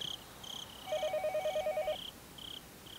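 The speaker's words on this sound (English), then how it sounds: "After I had put down the receiver for a few seconds, the phone began to ring again." A telephone rings in the visual novel Higurashi When They Cry Hou, a quiet electronic ring of short repeated trilling bursts, with one longer warbling ring in the middle, heard alone.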